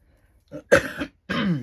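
A person coughs and clears their throat close by, two harsh bursts separated by a short pause.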